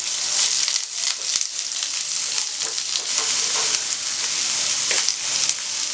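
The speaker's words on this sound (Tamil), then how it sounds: "நல்ல வெங்காயம் வதங்கட்டும்." Finely sliced onions sauté in a pan for jeera mutton with a loud, steady sizzle and intermittent stirring scrapes, and no voices.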